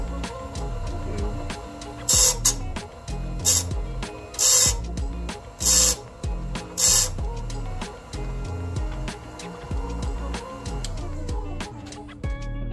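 A Harbor Freight circular saw sharpener grinds a tooth on a circular saw blade, giving several short loud grinding bursts over a steady mechanical motor hum and clicks.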